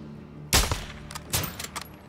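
Gunshots in the video game Call of Duty: MWII, two loud, close cracks about a second apart, each trailing off into brief echoes.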